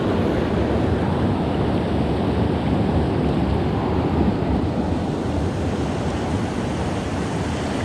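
Rushing creek water churns with choppy waves during creek fishing, a loud, steady broadband wash that continues unbroken with no voices.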